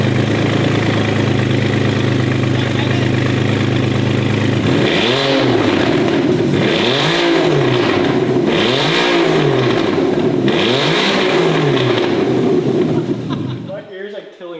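A Porsche Cayman with a straight-piped exhaust, very loud: a steady idle rumble, then four rhythmic rising-and-falling revs close by before it cuts off.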